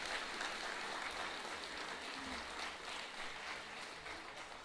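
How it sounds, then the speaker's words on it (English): Applause from a congregation at a NAIDOC liturgy, faint and distant, a soft continuous wash of clapping sustained for several seconds. "So can we give Jack a big round of applause?"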